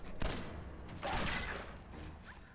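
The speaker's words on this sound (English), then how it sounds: "Why the game felt the need to give an enemy a machine gun, I will never know." Enemy machine gun fire in Fallout 4, heard as a short burst of muffled shots with a sharp crack near the start and a heavier volley midway, fading into a background rumble.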